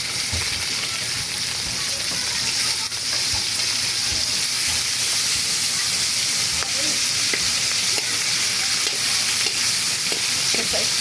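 Meat sizzles and fries in a pan as it is stirred for Bisaya pancit mikki, a steady, dense hiss running throughout with occasional scraping clatter.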